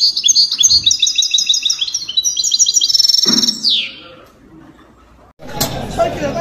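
Young male goldfinches at a Sunday bird market chirp in rapid, bright trills and tweets, loud and close for several seconds, then fade before a burst of broadband crowd noise near the end.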